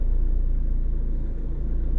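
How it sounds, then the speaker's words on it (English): An Isuzu Arctic Truck Stealth pickup on the move, its engine giving a continuous low rumble and whir from inside the cab, steady and unbroken with no voices. "Isuzu. It's an Arctic truck, this one. It's a Stealth."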